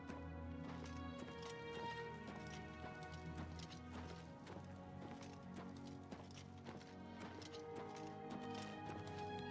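Horse hooves gallop in the video game Oblivion, a quiet, rapid, rhythmic clip-clop running steadily throughout with a layer of game music beneath.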